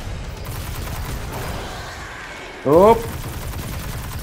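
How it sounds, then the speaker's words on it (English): Enemy gunfire aimed at the player in Destiny 2 rattles steadily in the background, with a sharp startled shout cutting in briefly. "Getting shot at."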